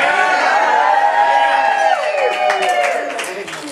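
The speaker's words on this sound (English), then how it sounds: "big round of applause for our maid of honor, Stephanie Bradley, and our best man, Toby Phillips" Wedding guests in a reception room break into applause with whoops and cheers, a loud, dense burst of clapping and crowd voices that gradually thins out toward the end.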